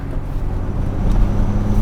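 Austin 3-Litre saloon with Hydrolastic suspension on the move, a steady low engine and road rumble with wind noise, fairly close and continuous, no talking.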